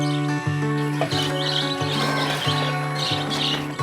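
Breeder chickens on a farm chirping and peeping in repeated bright bursts over a steady humming background, fairly close and with no talking.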